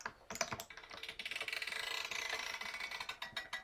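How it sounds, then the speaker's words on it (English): A string winder cranking a guitar tuning peg during restringing, a rapid run of fine ratcheting clicks that quickens into a dense, steady whir, close and fairly quiet with no voices. "We're going to go with the winder. String winder."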